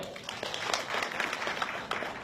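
An audience claps together at a motivational talk, a brief burst of dense, crackling applause with individual claps standing out over a few seconds.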